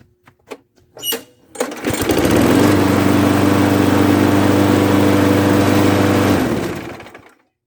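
A few knocks and a pull are followed by a lawn mower engine that catches and runs steadily at a loud, even idle before cutting off near the end.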